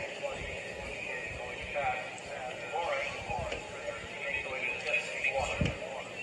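A horse gallops across the ground on a cross-country eventing course, its hoofbeats a soft, irregular drumming under continuous commentary in a steady wind-like background.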